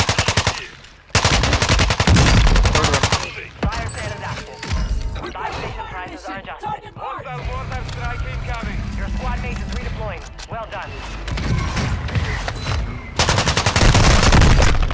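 Rapid bursts of video game gunfire open and close the stretch, loud and dense, with quieter clicks and talk-like voices in between.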